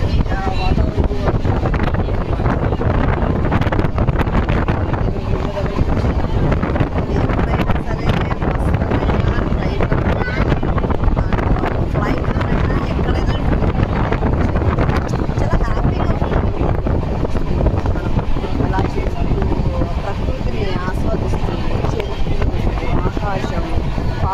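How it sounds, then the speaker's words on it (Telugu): Strong wind roars and buffets continuously against the microphone on a moving train in rain, a dense rushing noise over the rumble of the train, with no pauses throughout. "చాలా గాలి ఉంది"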